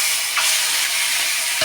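Prawns frying in a hot pan while being stirred, a loud continuous sizzle with scraping stirs close by.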